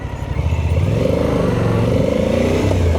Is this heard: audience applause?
no